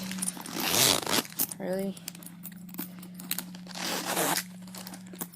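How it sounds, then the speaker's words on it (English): Zipper on a red genuine leather top-handle handbag being drawn open in a few short scratchy pulls, close and fairly quiet, with someone talking over it. "This is a zipper."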